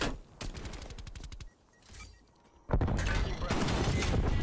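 A rapid-fire gun on the Nuketown map in a first-person shooter fires fast bursts, loud rattling volleys at the start and again at the end, with a quieter pause between.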